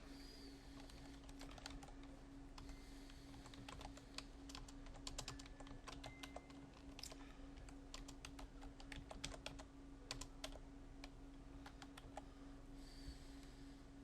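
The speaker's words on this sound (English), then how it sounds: "So I'll type in my address." Steady keystrokes on a computer keyboard while setting up a user account, an irregular run of close, crisp clicks over a faint constant hum, with no talking.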